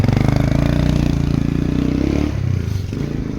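A motorcycle rides close by in rural Mulanay, Burgos, its engine droning loud and steady before easing slightly toward the end, with some rattling mixed in.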